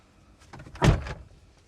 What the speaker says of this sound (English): if that door was to open, it would only open that far, not far enough to let someone climb through